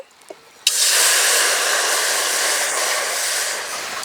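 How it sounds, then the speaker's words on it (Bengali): Water hitting a hot wok (kadai) while cooking: after a near-silent moment, a sudden loud sizzling hiss bursts out and carries on steadily, close and with no talking. "কড়াইতে জল দিয়ে দেব"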